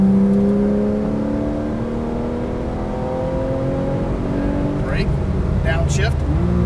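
A 2012 Porsche 991 Carrera S accelerates out of a turn, its engine note rising steadily and loud, then dropping as it shifts, heard from inside with an instructor talking over it.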